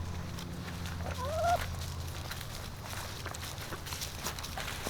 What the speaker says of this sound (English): Walking over all that brush I just cut down.